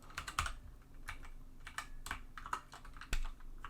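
Fast, uneven clatter of keystrokes on a computer keyboard, close and fairly quiet, with a few sharper key hits in a steady burst of typing and no voices.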